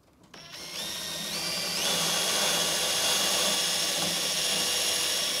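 A power drill spins up and whines steadily as it bores holes into wooden rafter crossbeams, a loud close motor tone rising in pitch and holding, with no talking.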